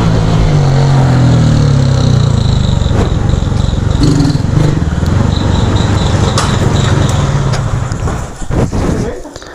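A small street motorcycle, a Honda Fan 150, idles and runs steadily nearby with a continuous buzzing drone, tapering off near the end, while people talk over it.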